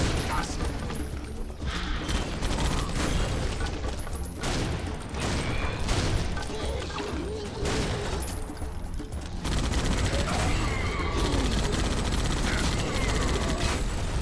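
Rocket launcher blasts and gunfire in the video game Painkiller, with loud, dense, continuous firing and explosions over a thick music soundtrack, and a few short breaks in the barrage.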